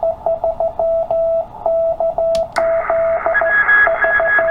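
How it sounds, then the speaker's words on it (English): A CW Morse signal comes through a TR45L radio as a steady keyed tone of short and long beeps over a faint hiss, and a second, higher tone joins partway through. "You flip that to narrow when you have a lot of hash or noise, and just listen to that CW signal coming in."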